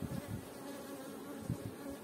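Honeybees buzzing on a hive frame built without foundation wax, a steady close hum with a few brief louder swells as bees pass near.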